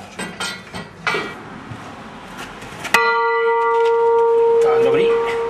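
A church chapel bell swung by an electric drive on 220 V rings out loud and sustained, entering suddenly after some earlier talk and clatter and then holding steady, with bright ringing overtones.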